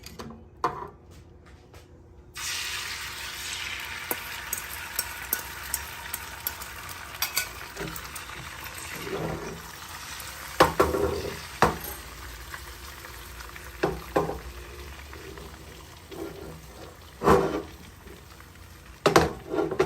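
An egg hits hot oil in a cooking pot and sizzles steadily, with crackling pops and occasional scraping stirs flaring above a constant frying hiss, up close and with no voices.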